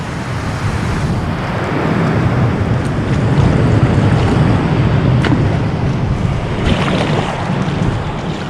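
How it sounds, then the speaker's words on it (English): River water pours over a weir on the River Soar, a loud, continuous roaring rush heard close by with some wind buffeting on the microphone. "You gotta love a weir, haven't you? Quite noisy too."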